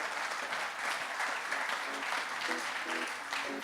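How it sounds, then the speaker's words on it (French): An audience claps for the guest Bruno Marzloff after his talk on road equipment and emerging practices, sustained even applause with faint voices and a few stray tones mixed in beneath. "Vous pouvez l'applaudir"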